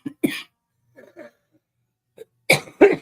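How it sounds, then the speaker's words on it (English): A woman sneezes at close range, several sharp bursts: a short one near the start, a stronger one a moment later, then two loud sneezes back to back near the end, with faint rustling in the gaps. "I'm going to sneeze again."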